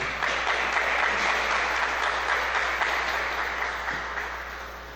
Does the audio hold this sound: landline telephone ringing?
no